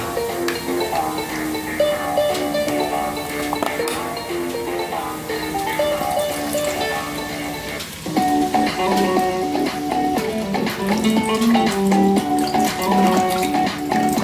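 Coconut cream milk and the liquids from sweet peas and sweet corn are poured into seasoned rice, a steady splashing pour that grows louder partway through, with background music and no talk.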